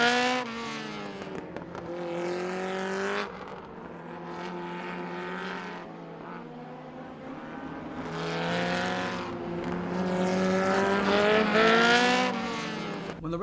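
Race cars roar away at the start of the 1970 Indy 500, a dense, sustained engine drone with shifting whining harmonics that swell and fade as cars pass, loud and continuous throughout.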